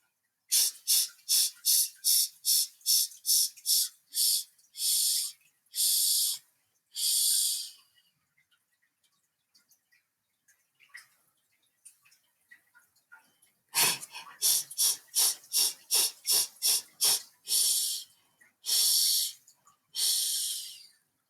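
A voice imitates a breathing pattern: a run of quick, sharp breaths, then slower drawn-out ones, then a long silent pause, before the fast-then-slow sequence repeats, close and clear with no other sound.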